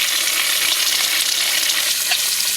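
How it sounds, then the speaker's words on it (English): Cake of yarn being washed in cool water with liquid dish soap, a steady close splashing and sloshing wash with brief drips, no voices. "I'm going to wash it with this cool water and liquid dish soap"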